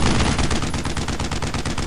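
Sustained automatic machine gun fire in the WWII shooter Brothers In Arms: Road to Hill 30, dense rapid bursts running continuously and loud, with no talking.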